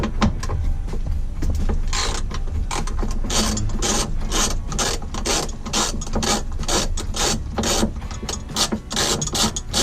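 Ratchet wrench clicking steadily while loosening a T50 Torx bolt on the upper seat belt anchor of a Mini Countryman R60, close and loud, with a rapid rhythm of pawl clicks throughout and no talk.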